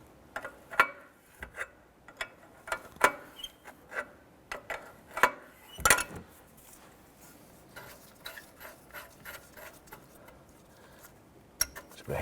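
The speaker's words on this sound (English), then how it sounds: "use our 26mm wrench and we're going to loosen the EGR pipe" A 26mm wrench loosens the EGR pipe on a 1993-1997 Ford Ranger during fuel injector replacement, giving sharp metallic clicks and ratchet-like ticks at irregular intervals, close and mostly alone.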